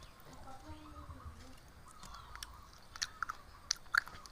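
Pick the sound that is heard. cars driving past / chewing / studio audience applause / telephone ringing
chewing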